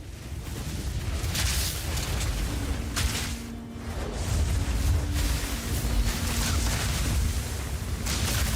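A gun ability firing in Path of Exile 2, a steady roaring, booming blast of sustained fire with rushing whooshes and thuds, loud and continuous with no talking.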